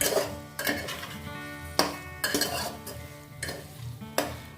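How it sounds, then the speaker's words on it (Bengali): Prawns frying with spices in a pan over a lowered flame, a steady loud sizzle broken by repeated scraping stirs and spatula knocks at irregular intervals, close and continuous. "গ্যাসের ফ্লেমটা কমিয়ে মাছটাকে বেশ খানিকক্ষণ এই মশলাগুলোর সাথে কষিয়ে রান্না করে নিতে হবে"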